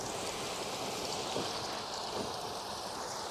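Water rushes steadily through a garden pond outlet during a pond rebuild, a constant close-up wash of broadband splashing noise with no voices.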